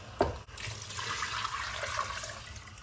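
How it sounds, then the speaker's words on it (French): A steady stream of beef broth pours into a pot, a continuous close splashing gurgle lasting a few seconds, no voices. "mon litre de bouillon de bœuf."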